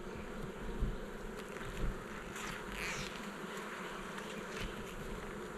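Honeybees buzzing at a beehive, a dense continuous hum from many bees with occasional louder passes close by, no talk.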